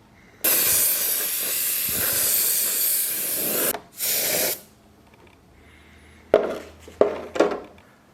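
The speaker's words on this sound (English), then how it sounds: "took a rattle can of some Rust-Oleum, just some regular Rust-Oleum" A rattle can of regular Rust-Oleum spray paint hisses in long, loud, close bursts as it coats an RC car body, then a few short sprays with gaps between them.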